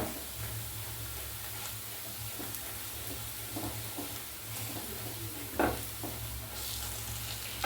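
Chili powder tempering sizzles in a pan for a coastal fish curry, with stirring scrapes and a few sharper pops over a steady, fairly quiet frying hiss, without speech.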